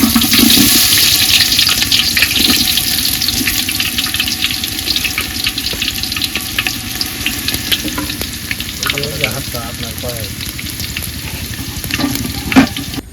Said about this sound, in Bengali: আমাদের তেল গরম হয়ে গেছে এখন আমরা পেঁয়াজটা দিয়ে দেবো